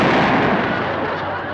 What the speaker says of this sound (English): Step aside, lady. I'll shoot it.